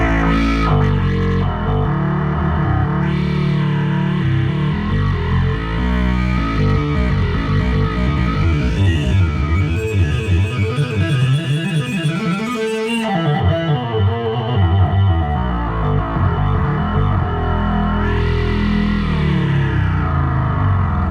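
A dense, heavily distorted Korg synthesizer drone, thick and saturated with swirling, shifting overtones and effects, loud and continuous throughout.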